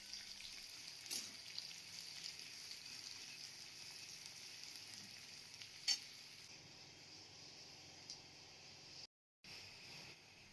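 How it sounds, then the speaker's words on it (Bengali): Chopped onion frying in a pan with garlic for a cabbage mash, a soft, even sizzle with a few faint stirring clicks, quiet and close, briefly cut to silence near the end. "পেঁয়াজটা আমি অর্ধেক ভাজা করে নেব।"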